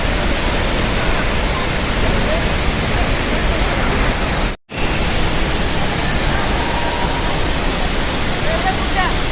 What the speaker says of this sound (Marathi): पाण्याचा प्रवाह खूपच जास्त आहे